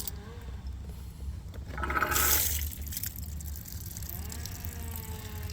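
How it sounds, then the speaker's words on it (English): Water drains out through the plumbing of a rinse station being winterized, a steady low gurgling flow with a brief louder surge of rushing water partway through, heard alone without talk. "now anything here is going to be drained out through there"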